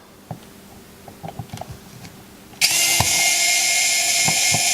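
Someone removes an electrical cover plate, first with a few light taps and clicks, then a power tool starts and whines continuously at close range.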